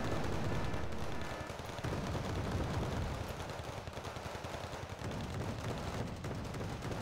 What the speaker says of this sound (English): Repeat those mortars.